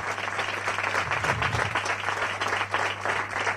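Crowd at a Madrid supporters' club federation's 25th anniversary event applauding steadily, a dense, even wash of clapping from many hands with a low hum underneath.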